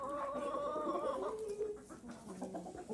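Chickens, laying hens with three roosters, cluck and warble close by in a coop in a short, busy stretch of overlapping calls, without any talking.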